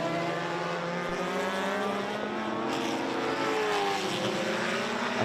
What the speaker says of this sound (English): you can't get a better mix than a quad rotor running around alongside a NASCAR from back in the day